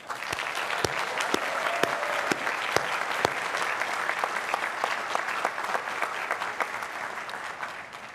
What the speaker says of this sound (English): let's give ourselves a rousing hand of applause